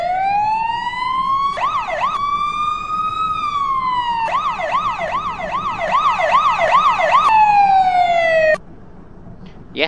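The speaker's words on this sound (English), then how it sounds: "Yes, that one does have sirens and lights." Fire engine siren in a Roblox game based on Fireman Sam, loud and close: steady wails alternate with fast yelping warbles, then cut off abruptly near the end, leaving quiet background.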